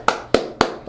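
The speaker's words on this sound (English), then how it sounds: "normally don't clap in the middle like that for real" Four sharp, close hand claps in a quick, even rhythm, each loud and dry with a short decay, alone in an otherwise quiet room.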